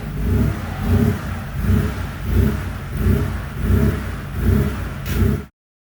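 A Porsche 3.2 Carrera engine surges while driving, its drone swelling and fading in a steady rhythm about once per second, loud and close throughout before cutting off abruptly.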